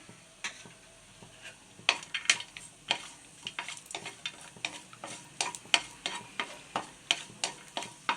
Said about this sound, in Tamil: முந்திரியை உடச்சி வச்சுக்கலாம், அதையும் வறுத்துக்கலாம்.